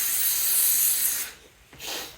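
An aerosol can hisses in a steady close spray onto new metal engine parts for a 5.3 LC9 V8, pauses briefly, then gives a second shorter burst.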